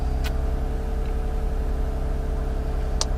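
Tuned 2012 Lexus IS350 F-Sport idling steadily with a constant low hum, broken by two brief sharp clicks or chirps near the start and end.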